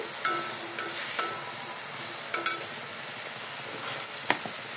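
Shrimp curry masala with tomatoes sizzles steadily in a hot pan, a continuous frying hiss broken by a few light clinks of a stirring spoon against the pot.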